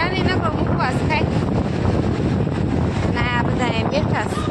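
An air cooler blows a steady, loud broadband rush of air through a room where family members sit together, with voices talking over the constant fan noise.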